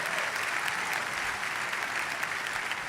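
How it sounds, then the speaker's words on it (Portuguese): Sustained applause from a large congregation welcoming a guest couple at a religious gathering, a thick even wash of many hands clapping throughout, with no speech. "Queria que vocês recebessem com aplauso."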